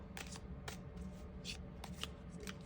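Tarot cards being shuffled and drawn during a reading, a steady soft riffling with repeated brief papery flicks and slaps, close and fairly quiet, with no talking.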